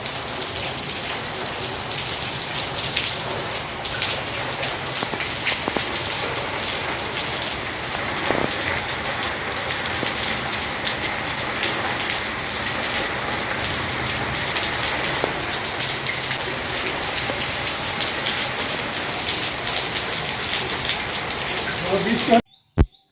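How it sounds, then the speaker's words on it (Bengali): Heavy evening rain pouring steadily, a dense continuous hiss of drops drumming on surfaces that holds even and loud across the whole stretch, with a faint bird call now and then and a few sharp knocks at the very end. "সন্ধ্যাবেলায় বৃষ্টি শুরু হয়ে গেছে, বৃষ্টি পড়ছে ঝমঝম করে"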